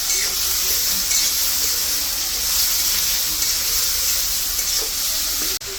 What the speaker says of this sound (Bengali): আলুটা দিয়ে ভালো করে আর একটু কষাই বসে